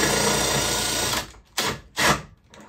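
A power drill whirs continuously while driving a screw into a wall-hung concealed toilet frame, then stops and gives two short bursts.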